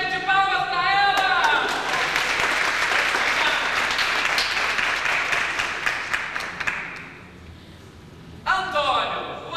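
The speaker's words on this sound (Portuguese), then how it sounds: "de palmas pra ela!" A theatre audience bursts into sustained applause during a stage play, dense clapping that swells and then fades out, with voices heard briefly before it and again once it ends.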